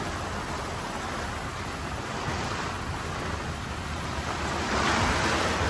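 Heavy rain pours steadily onto a moving vehicle, a dense, unbroken broadband wash that swells slightly louder near the end, with no one talking.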